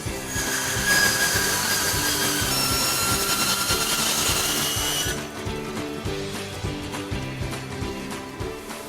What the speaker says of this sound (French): je vais le couper dans le sens de la longueur avec la scie à ruban